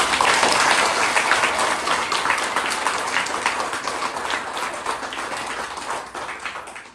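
Schoolchildren clap together before a school play, a broad burst of many small hands that starts strong and gradually thins and fades over several seconds, with no talk over it.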